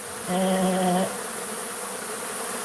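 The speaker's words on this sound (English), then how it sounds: "So they knew there were bees. But it wasn't like he was hearing them in the wall because of the air conditioner, so. Ha, it is a buzz." Bees from a hive inside air ducts give a steady, close buzzing drone, with a louder tonal swell near the start over a constant hissing background.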